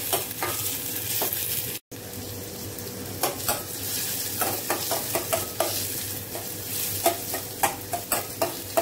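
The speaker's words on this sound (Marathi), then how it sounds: "कांदा टोमॅटो चांगलासा परतून घ्यायचा आहे तेलामध्ये" Chopped onion and tomato sauté in hot oil in a pan, giving a steady soft sizzle, with frequent close scraping clicks of a spoon stirring through the mixture.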